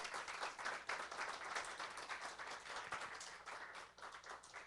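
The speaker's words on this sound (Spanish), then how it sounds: "Le da un aplauso al Señor fuerte por eso." A church congregation applauds during a sermon, with continuous, fairly soft clapping from many hands in a room and no talk over it.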